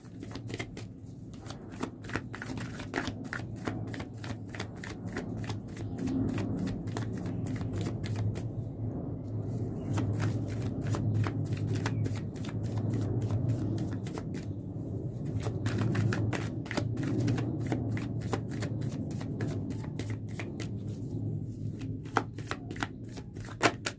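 Tarot cards are shuffled at length, a steady run of quick crisp riffling snaps close to the microphone, with brief pauses between bursts and a low hum beneath.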